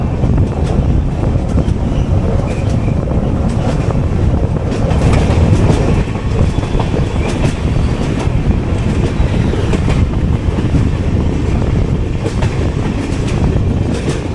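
Kacheguda–Madurai Superfast Express runs at speed, heard from inside an AC 3-tier coach as a loud continuous rumble with rhythmic clickety-clack of wheels over rail joints and rushing wind.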